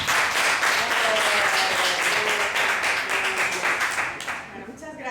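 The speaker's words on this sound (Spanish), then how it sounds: "un aplauso para Norma" An audience claps in sustained applause for a student at a talk, a dense, loud wash of many hands that holds steady before tapering off near the end.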